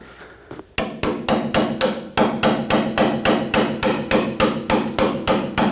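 A pry bar knocks the rear shock absorber off a 1995-2004 Toyota Tacoma, sharp metallic strikes in a fast, steady rhythm of about a dozen close, loud blows.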